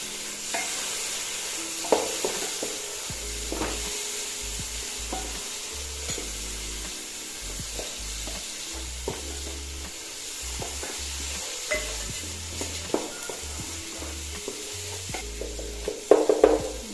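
Chopped tomatoes sizzle and fry in Palakkad-style chicken biryani masala, with repeated spoon scrapes stirring the pan and a few sharper clinks near the end, steady and close with no talking.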